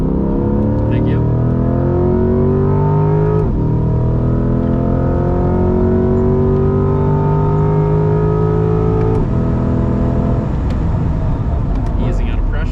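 Corvette C8 sports car lapping a race track, engine droning steadily with rising and falling pitch as throttle eases and builds, heard from inside the cabin with a person talking over it.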